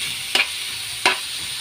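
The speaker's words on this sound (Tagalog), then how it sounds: "Halo lang ng halo, mga ma'am. Hanggang ito ay lalabas ang kanyang juice." Shrimp chop suey being stirred in a pan, with two brief scraping strokes a second or so apart over a steady faint sizzle.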